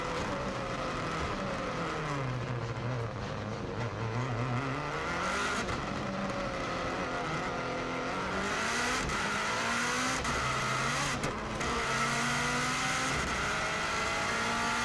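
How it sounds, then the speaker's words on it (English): A 2016 Subaru WRX STI's engine revs up hard from inside the car on an Isle of Man TT road course, pitch climbing through gear changes in a loud, continuous drone. "we're now accelerating for the flying start"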